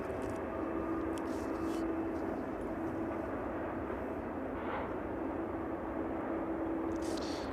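A 767 on final approach at East Midlands Airport in the evening gives a steady, distant jet drone with a faint whine, even and continuous throughout.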